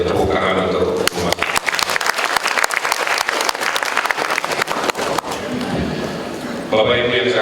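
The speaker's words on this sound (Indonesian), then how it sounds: "Nah itu tepuk tangan untuk umat." Audience applause at a national public relations convention in Indonesia, dense clapping that swells and pulses for several seconds, with a speaking voice heard at the start and end.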